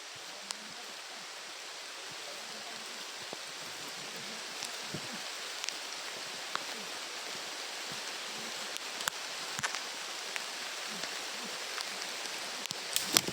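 Steady rain falls in a broadband hiss across a wet outdoor scene, with scattered close patters and drips breaking through the wash and intensifying slightly toward the end.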